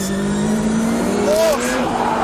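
Ford RS200 rally car accelerating hard on a track, its engine note loud and rising steadily over about two seconds, with a pitch sweep near the end and a voice exclaiming over the noise.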